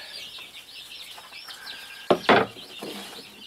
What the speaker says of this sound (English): That's why you might hear them right now, making happy, funny noises.